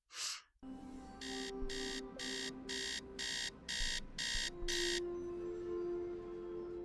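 An electronic alarm clock in a video game beeps in eight evenly spaced, high-pitched bursts over a steady background hum, preceded by a short whooshing sound.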